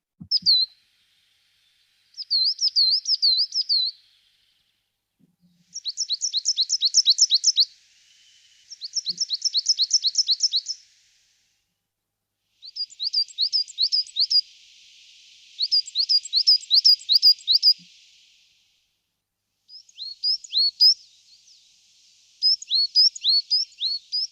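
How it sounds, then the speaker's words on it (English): A coal tit sings in woodland at dawn, delivering a series of quick, high, sweet repeated two- and three-note phrases in bursts separated by short pauses, clear and fairly close against a quiet background. "This is the coal tit."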